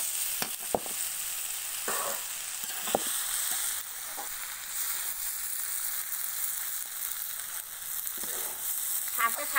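Fish and potatoes frying in oil in a pan, a dense steady hiss of sizzling close by, with a few stirring scrapes and light clicks over it.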